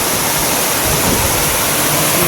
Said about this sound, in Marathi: आपण बघू शकता निसर्गाचा हा नैसर्गिक धबधबा इतका भारी आहे ना